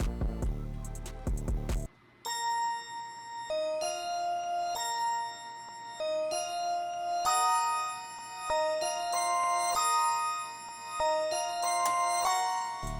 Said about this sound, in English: It's the light bell, and it sounds like this.